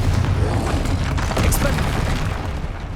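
Confringo fire spell blast in Hogwarts Legacy, a loud sustained rumbling boom with heavy low-end roar and crackling debris filling the whole stretch, with game speech mixed underneath.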